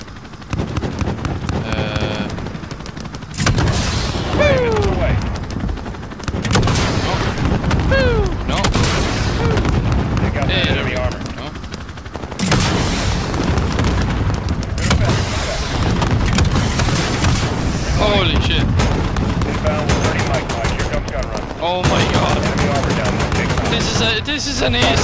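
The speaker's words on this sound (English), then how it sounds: "An AC-130. That's what this is." An AC-130 gunship fires in the Call of Duty Modern Warfare campaign: loud repeated cannon booms and bursts of gunfire roll out in irregular volleys, with radio-style voices speaking between shots.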